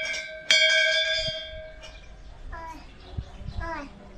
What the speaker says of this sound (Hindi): देखो इसको अभी घंटी बजाने का